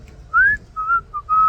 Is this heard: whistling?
yes